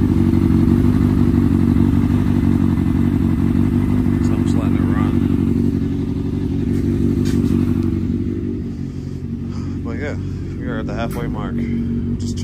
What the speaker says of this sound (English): You can hear my bike outside.